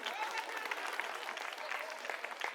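A crowd claps steadily at an Aam Aadmi Party political rally in Kasturba Nagar, Delhi. The dense applause holds across the whole stretch, with voices mixed underneath.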